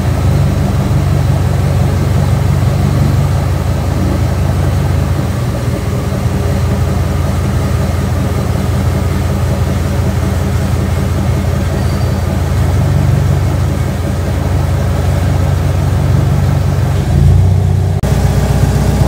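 A Mitsubishi Lancer engine idles steadily and loudly with a constant low rumble and hum, holding even throughout before a brief change near the end.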